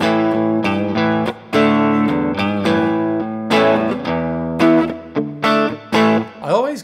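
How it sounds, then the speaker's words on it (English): Electric guitar through a Blues Driver overdrive in amp-simulation software, gritty distorted chords and single notes ringing out in a steady phrase with brief gaps, loud and close with no talking. "I need a bit of grit here, so I'm gonna add an overdrive. Let's try the blues driver."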